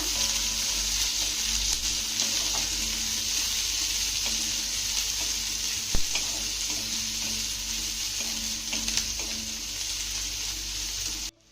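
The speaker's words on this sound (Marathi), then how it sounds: "आता हा घातलेला कांदा आपण एक मिनिटभर चांगला परतून घेऊया" Sliced onion sautés in a pan with a steady frying sizzle and hiss, sparse clinks and scrapes of stirring, and one sharp knock near the middle. No one speaks.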